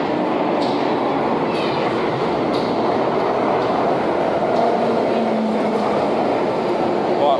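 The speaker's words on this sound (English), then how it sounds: "Quickly before the train arrives." A London Underground Tube train pulls into Waterloo station with a loud, steady rumble of wheels and motors, faint squeals and rail clatter, while the echoing platform noise carries throughout.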